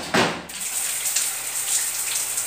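Shower water running at home, a steady hissing spray heard close up after a short louder gush at the start.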